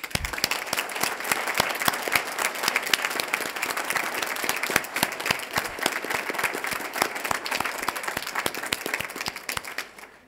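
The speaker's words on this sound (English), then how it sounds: "Ladies and gentlemen, please honour them with your applause." A graduation ceremony audience at CQUniversity Noosa applauds the new graduates, continuous crisp clapping from a large crowd, individual claps distinct within the steady roar, sustained for about ten seconds before tailing off.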